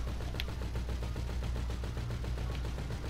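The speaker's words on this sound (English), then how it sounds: "get in the gunner and start shooting the insurgent" A mounted gun on an Insurgent armored vehicle fires in GTA 5, a rapid continuous burst of automatic shots holding steady for several seconds at even loudness.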